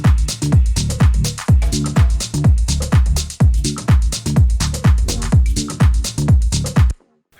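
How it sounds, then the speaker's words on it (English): A steady electronic drum groove with punchy kicks locked to a deep, repeating bass line, looping evenly before stopping abruptly near the end. "So with just the bass and the basic beat going, it sounds like this."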